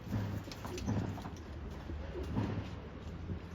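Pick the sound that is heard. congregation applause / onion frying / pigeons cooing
pigeons cooing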